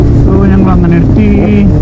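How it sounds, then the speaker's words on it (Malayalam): A BMW 1250GS motorcycle downshifts during a group superbike ride, a loud, close engine note stepping through rising and falling pitches in quick succession over a short burst, with some speech mixed in. "എൻ്റെ ഡൗൺ ഷിഫ്റ്റ് കേട്ടു, സൗണ്ട് കേട്ടു."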